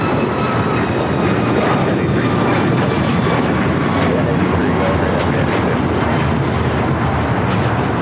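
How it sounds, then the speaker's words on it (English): An Alaska Airlines Boeing 737 MAX 9 takes off from LAX, its engines a loud, steady broadband roar that holds for the whole stretch, with faint voices talking underneath. "This is Alaska Airlines 1083 taking off to Seattle on the MAX 9."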